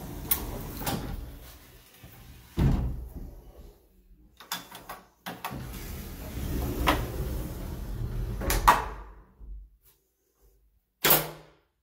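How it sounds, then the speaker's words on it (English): A hidden cabinet-style door swinging shut with a closing hook, giving several separate knocks and soft wooden clacks with quiet pauses between, then one final sharp close near the end. "When the door is completely hidden, this hook helps close it more easily."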